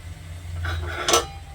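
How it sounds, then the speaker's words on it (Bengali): A perforated steel strainer holding a rolled flour pitha is set down over a pot of boiling water, making a brief metallic clink and scrape with a light rattle over a low background hum. "এখন এই ফুটন্ত জলের মধ্যে এই দেখুন এভাবে বসিয়ে দিচ্ছি"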